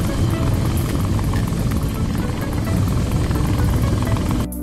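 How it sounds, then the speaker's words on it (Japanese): A helicopter in the World Flight VR flight simulator game on Meta Quest makes a loud, steady rotor and engine drone that stays constant throughout and cuts off abruptly at the end. "メニュー画面に戻ってヘリコプターを選択し、時間帯や天候を変更してフライトしていきます"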